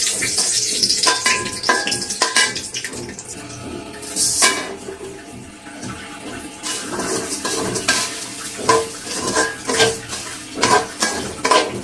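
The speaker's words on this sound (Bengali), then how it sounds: "চালগুলাকে খুব ভালোভাবে ভেজে নিতে হবে, সুন্দর করে এটা ভেজে নিতে হবে।" Rice frying in a pot for chicken biryani pulao gives a clattering scrape of a spoon against metal and a soft sizzle, with bursts of stirring that come and go.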